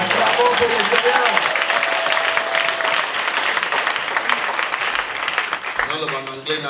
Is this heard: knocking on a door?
no